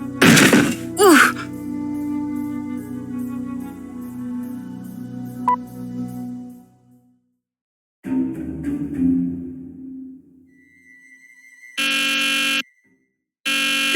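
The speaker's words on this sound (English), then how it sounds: "This was not what I expected when I set the alarm." Alarm buzzing in the video game Nancy Drew: The Deadly Device, heard as a loud repeated electronic tone in short bursts, mixed with thuds and game sounds, with a brief pause before it returns.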